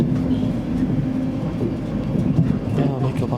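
A passing Intercity train rumbles continuously nearby at a station platform, a steady loud rolling roar with wheel and rail noise filling the whole stretch.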